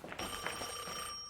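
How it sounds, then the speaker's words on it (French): A telephone rings in a scene from the animated series Devil May Cry, giving one steady, sustained electronic ring with bright, even tones that holds fairly loud for over a second, with no voices over it. "Téléphone, Dante, c'est peut-être elle."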